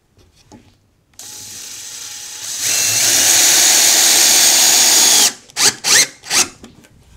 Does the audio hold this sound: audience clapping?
no